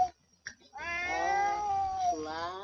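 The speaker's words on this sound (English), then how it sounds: "My sim cat's yowling is actually upsetting my real cats." A game cat in The Sims 4 lets out a long, tonal yowl that swells and then bends downward near the end, preceded by a couple of short faint chirps, close and unaccompanied by speech.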